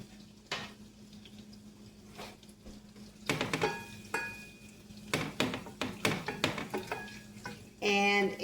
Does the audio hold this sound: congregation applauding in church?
no